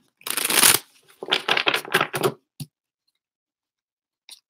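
Tarot cards are shuffled close up in a few quick riffling bursts, followed by a soft tap and a final faint flick, with silence between.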